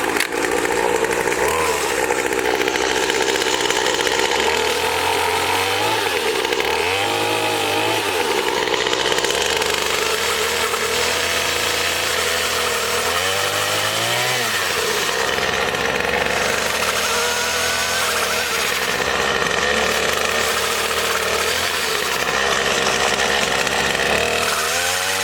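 Pole saw with an interchangeable powerhead cutting through wood outdoors, its small engine droning loud and continuous throughout, with the pitch dipping and rising as the chain bites into the branch.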